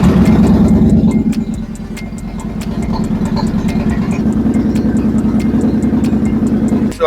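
2009 Kawasaki Vulcan VN-900 Classic LT motorcycle engine running after a coolant change, a loud, close, rhythmic low-pitched chug that dips slightly after starting, then settles into an even idle with steady ticking.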